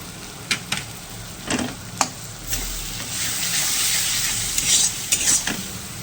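Ground spice paste hits a hot pan and sizzles steadily, broken by sharp scrapes and taps of a spoon stirring against the metal, with the sizzle growing fuller and louder midway.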